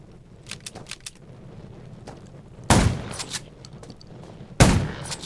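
Gunfire in the zombie survival shooter Undawn: two sharp, loud shots about two seconds apart, each a broadband burst with a short tail, over a low, murky game ambience.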